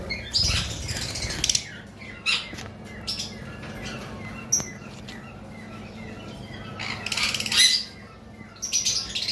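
Mutation lovebirds, including turquoise blue and creamino, squawk and chirp in sharp, scattered bursts at a bird sale, with a few clustered flurries and quieter gaps between, close and fairly loud.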